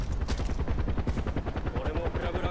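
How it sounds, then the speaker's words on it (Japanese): Rapid rhythmic chopping of a helicopter rotor in the video game Far Cry 4, loud and steady, mixed with bursts of gunfire. "あ、ヘリあった、これ敵かな"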